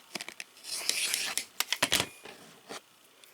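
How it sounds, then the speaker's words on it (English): A rotary cutter trims along the edge of quilting fabric for half-square triangles, giving soft, close slicing and scraping strokes in short bursts with quiet rustles between. "Use your rotary cutter and just trim along the edge."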